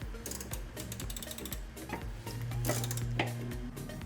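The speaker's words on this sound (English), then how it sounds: "There you go, it's ratcheting." A ratcheting seat harness tensioner on a Bride Zeta IV seat with Braum 5-point harnesses clicks in a rapid series of sharp metallic ratchet ticks, close and fairly quiet, mixed with a few clanks of handling.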